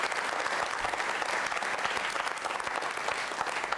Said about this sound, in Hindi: तालियां बजाइए राष्ट्रपिता के सम्मान में जोरदार तरीके से आप।